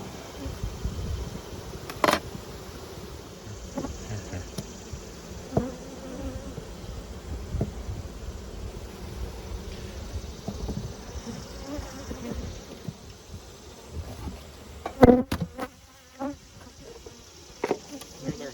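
Honey bees swarm around an open hive, a continuous close buzzing drone with individual bees whizzing past loudly now and then, a few soft knocks and scrapes of hive equipment, and occasional faint voices.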